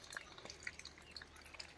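Water drips from a school tap in a schoolyard in Almora district, Uttarakhand, giving faint irregular drops against a quiet background with no one talking.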